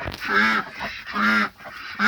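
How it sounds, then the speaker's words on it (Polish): Ducks in a backyard flock quack close by, three loud nasal calls in a row with short gaps between them. "Kaczki"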